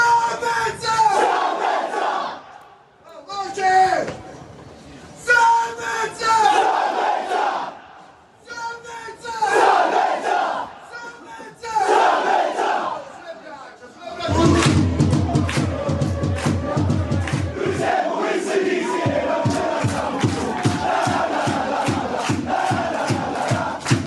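Messina football fans loudly chant rhythmic bursts of voices at the team's training session, then break into sustained crowd chanting with steady rhythmic clapping or drumming.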